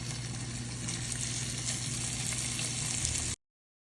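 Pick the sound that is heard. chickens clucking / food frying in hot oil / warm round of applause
food frying in hot oil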